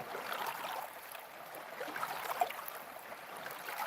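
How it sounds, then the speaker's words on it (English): Small waves from a passing boat lap softly against the shore in gentle, continuous, fairly faint washes, with no voices over them. "You hear the wave is from the boat."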